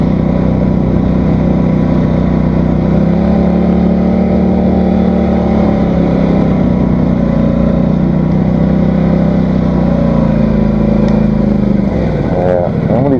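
An ATV drives along a snowy trail packed down by snowmobiles, its engine droning loud and steady close by with slight shifts in pitch, then revving and wavering near the end, with no speech.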